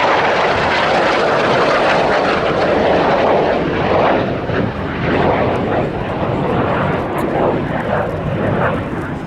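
A captured MiG-15 jet in American colours flying at the Duxford airshow, a loud, continuous broadband roar that holds steady throughout.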